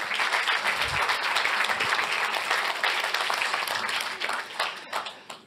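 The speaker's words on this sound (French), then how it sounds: "Bravo, on peut vous applaudir." Sustained applause from an audience at an insurance awards ceremony, dense steady clapping that carries on for several seconds before thinning out near the end.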